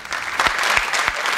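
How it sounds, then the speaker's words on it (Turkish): A studio audience of women claps steadily on a 1998 Turkish TV show, dense and close, with a few sharper individual claps standing out. "Bak herkes alkışlıyor gördüm"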